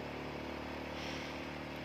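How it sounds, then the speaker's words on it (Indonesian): An old motorcycle climbs a hill in second gear, its engine laboring with a loud, constant droning rumble throughout. "jadi motor juga agak ngeden nih"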